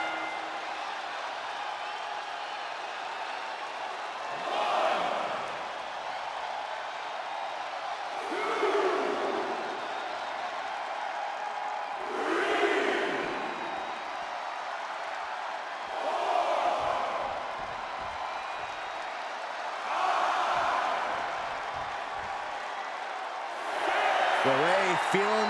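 A wrestling arena crowd in the video game WWE 2K24 swells in repeated bursts of cheering about every four seconds, rising and fading under continuous commentary.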